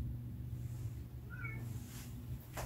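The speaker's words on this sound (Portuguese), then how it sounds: "tem um gato miando aí, é?" A cat meowing in the distance, short high mews heard faintly over a steady low hum and background noise, with no talk at that moment.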